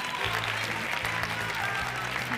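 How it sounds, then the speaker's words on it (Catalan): Applause from a school audience honouring teachers at a student quiz-show taping, dense clapping held at an even level for the whole stretch, with a low mechanical hum running underneath. "Aplaudiment per a Pura i Marina"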